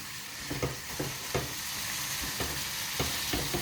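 Pork steaks fry in a pan with a steady, dense sizzle, punctuated by several soft knocks and scrapes as the meat is turned over.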